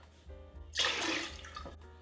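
Light rum pours for a rum runner cocktail, a short liquid splash rising suddenly and trailing off over about a second, fairly quiet and alone.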